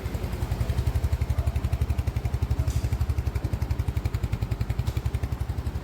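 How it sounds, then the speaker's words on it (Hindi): A Royal Enfield Hunter 350 motorcycle engine runs steadily at idle after its first free service, a loud close thumping single-cylinder beat with a rapid even rhythm and light mechanical clatter. "अब ये इंजन वगैरह स्टार्ट करके चेक कर रहे हैं कि साउंड वगैरह जो है वो कैसा आ रहा है"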